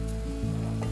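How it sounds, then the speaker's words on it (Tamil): Jaffna-style squid curry with coconut milk sizzles loudly in a pan while being stirred, a continuous close frying hiss with the scrape of the spoon moving through it. "இப்போ இதை நல்லா கலந்து விட்டுக்கோங்க."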